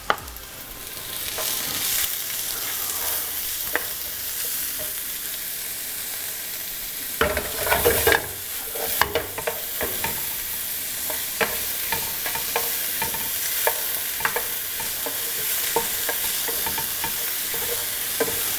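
Onions and garlic fry and sizzle in a pan with steady crackling, stirred now and then with scrapes and clatter, close and continuous, without talk.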